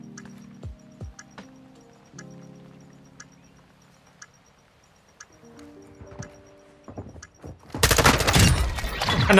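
Gunfire from the video game Warzone 2 arrives as sparse distant shots, then breaks into a dense, loud burst of rapid firing at the end, with small game-interface clicks and tones throughout.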